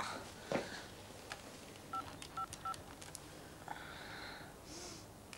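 Three short electronic keypad tones in quick succession as a telephone is dialed, preceded and followed by faint rustling and breathing, with a soft hiss near the end.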